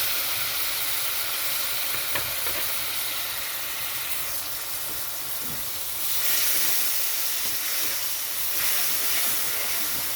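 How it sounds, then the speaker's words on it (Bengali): A little water is poured onto spice masala frying in a pan, setting off a loud, steady hiss and sizzle of steam that swells noticeably partway through and continues without pause. "এখানে আমি অল্প পরিমাণে জল দিয়ে দিচ্ছি মশলাটা কষানোর জন্য।"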